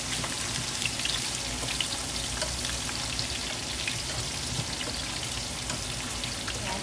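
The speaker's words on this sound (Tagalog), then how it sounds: "igigisa lang natin sila hanggang maging translucent na yung ating sibuyas" Garlic and onion sautéing in a pan for beef kaldereta, giving a dense, continuous close sizzle like steady rain that holds at an even loudness throughout, with no voices.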